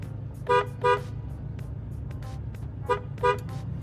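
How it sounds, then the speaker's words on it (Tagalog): Aftermarket J-Horn on a Toyota Hilux sounding two pairs of short, bright honks, each pair a quick double toot, heard at moderate distance over a steady low idle rumble with no talking. "Ganito naman yung J-Horn."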